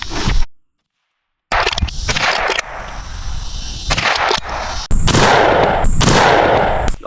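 Gunfire from firearms at an outdoor shooting range: loud sharp reports and bursts broken by a sudden silent gap, then dense, continuous blasts and echoing rumble through the rest.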